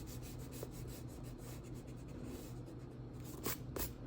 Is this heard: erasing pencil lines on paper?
yes